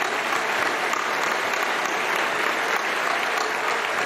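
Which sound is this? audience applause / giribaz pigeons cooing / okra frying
audience applause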